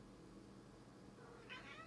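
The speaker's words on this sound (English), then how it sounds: "You may have just heard a little cat as well." A stray cat meows once, faint and distant, over a low room hum indoors.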